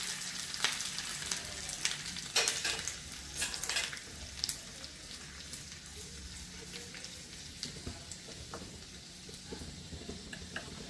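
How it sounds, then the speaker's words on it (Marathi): Mustard seeds, cumin, garlic and curry leaves crackle and sizzle in hot oil, with sharp popping bursts in the first seconds that settle into a steady, softer frying hiss, close and without talk. "आपलं तेल गरम झालेलं आहे, आपण याच्यामध्ये आता अर्धा चमचा मोहरी टाकूयात, अर्धा चमचा जिरं टाकूयात, लसूण आणि कढीपत्ता टाकूयात"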